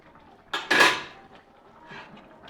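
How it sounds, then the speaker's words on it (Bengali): A metal lid set down on a pot of rohu fish curry with cauliflower, two quick clanks and a ringing rattle, followed by a faint scrape, close by. "একদম রেডি মাছ রান্না ঢাকা দিয়ে দিলাম"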